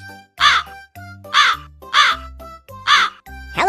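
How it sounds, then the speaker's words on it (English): A crow caws five times in an even, repeating rhythm, each harsh call loud and close over a soft musical backing. "I'm a crow."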